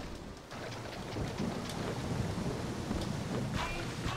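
A thunderstorm in the Ratatouille video game brings dense steady rain with rumbling thunder and crackling strikes, fairly faint and continuous throughout.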